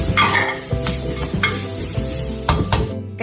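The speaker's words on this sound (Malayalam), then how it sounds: "തക്കാളിപ്പഴം ഇട്ട് ഒന്നിളക്കാം" Chopped tomatoes and onions frying in oil for Kerala-style chicken thoran, stirred in a pan with a utensil: steady close sizzling broken by a few scraping knocks, no voices.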